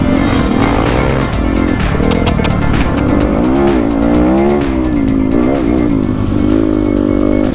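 A 2018 Yamaha WR250F dirt bike engine revs loud and close, rising and falling continuously throughout without pause.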